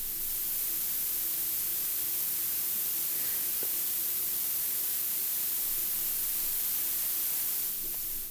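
Bright hiss from a synthesizer noise module in a stereo ambient case, a steady airy static rush with a faint low hum underneath, continuous and alone without talking.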